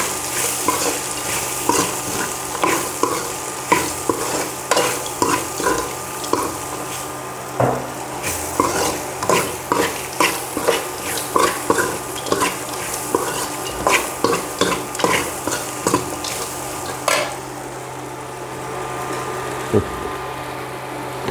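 Lentils and potatoes fried in a pan with turmeric, stirred by a spoon that scrapes and clacks in a steady rhythm of many close strokes over a continuous sizzle, with no talking.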